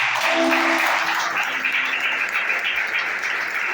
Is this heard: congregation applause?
yes